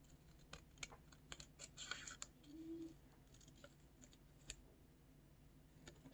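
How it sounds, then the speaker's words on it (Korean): Scissors snip through colored origami paper in a run of small, quiet, irregular cuts close by, with no talking over them. "가위로 자 이 선 따라서 그대로 오려주세요"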